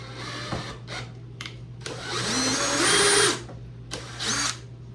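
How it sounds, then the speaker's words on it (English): A power drill drilling into a plastic prop whines up and runs steadily for about a second and a half, with shorter bursts of drilling and clicks before and after, close by. "So let's go ahead and drill this in here."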